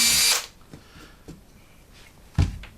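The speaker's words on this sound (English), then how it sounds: "get my drill, and it's important here to see, you want to get the hole in the middle of the batten" A power drill whines loudly for about half a second as it bores a hole through a wooden batten, then stops, followed by quiet handling knocks and a sharp thump.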